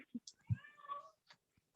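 A pet cat gives a short meow with clear tonal harmonics, heard close to the microphone in a quiet indoor room, with brief soft sounds before and after it.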